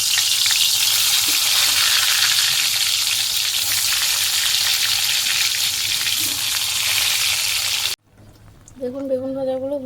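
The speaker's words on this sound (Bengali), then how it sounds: "বেগুনটা আমরা ভাজা করে নেব।" Eggplant slices frying in hot oil give a loud, steady sizzle for about eight seconds, then the sound cuts out and a faint voice follows.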